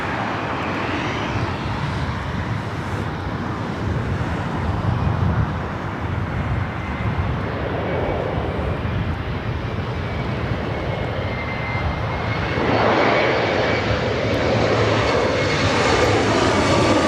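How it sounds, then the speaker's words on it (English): Boeing 777-300ER jet arriving at LAX on a south side approach, a broad continuous engine roar with a rising whine, heard from a moderate distance and steady throughout. "coming in from Auckland, a 777-300ER, 2 minutes out, a south side arrival"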